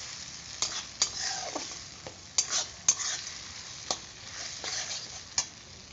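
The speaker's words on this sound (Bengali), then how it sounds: "মশলাটা তো কষছে ভালো মতো" A mixer-ground spice paste sautés in a pan with a soft, low sizzle, broken by about ten sharp clinks and scrapes of a spatula against the pan as it is stirred, with no talk.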